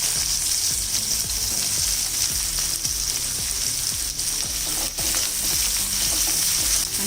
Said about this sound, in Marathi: त्यात आधी कांदा घालूया.